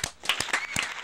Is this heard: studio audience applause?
yes